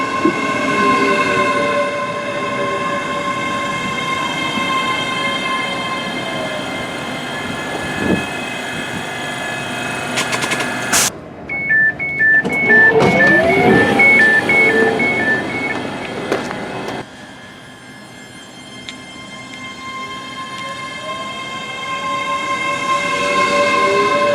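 A train pulls into Stirling station, its engine and wheels drumming loudly close by, with a two-tone horn or warning tones sounding partway through, then a quieter lull before the rumble builds again.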